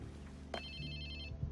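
A phone ringing in the video game Watch Dogs 2, a faint electronic ringtone with a sustained tone, with low background hum and a brief click, no talk.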